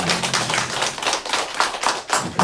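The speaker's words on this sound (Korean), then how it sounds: "우리 박수로 축복하겠습니다" A church congregation applauds together at a service, with dense, sustained clapping filling the room in loud overlapping bursts and no speech on top.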